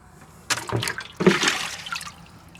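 Water splashes and trickles into an animal's water dish on a farm in two short close pours that fade into a light dribble.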